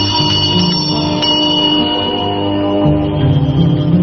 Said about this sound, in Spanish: mientras hace sonar una pequeña campanilla